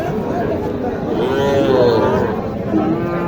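Cattle low with a long, drawn-out moo over a busy crowd of people talking nearby, in a noisy open-air cattle market (haat) in Naogaon district, Bangladesh.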